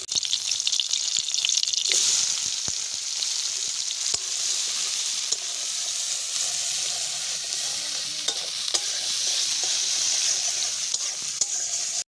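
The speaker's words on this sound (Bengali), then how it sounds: "পেঁয়াজগুলি ভাজা হয়ে গেছে" Sliced onions frying in mustard oil in a kadai on a kitchen stove give a continuous loud sizzle, with frequent scraping stirs and light clinks of the spatula against the pan, close by and with no talking.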